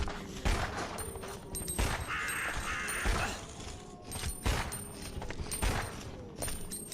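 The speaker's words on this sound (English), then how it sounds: "God, good to know that the annoying birds exist even here." Birds caw in Resident Evil Outbreak, in repeated harsh calls over a game soundscape broken by sharp impacts and a tonal hum.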